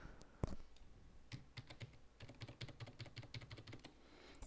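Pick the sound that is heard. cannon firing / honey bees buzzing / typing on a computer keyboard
typing on a computer keyboard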